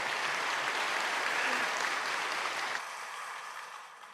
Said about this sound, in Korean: 우리 하나님께 영광의 박수로 들려드립시다.